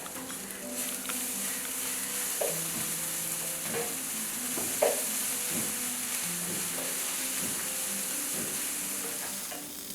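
Masala rice ingredients with masala powder fry and get stirred in a pan, giving a steady sizzle with a spoon scraping and clinking at intervals, close and alone with no talk.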